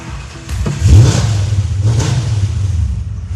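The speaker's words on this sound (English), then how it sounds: "Now I'm gonna start it." A hot rod's engine cranks and catches, flares into a loud rev and then settles into a lumpy, throbbing idle with a second blip, heard up close in a garage.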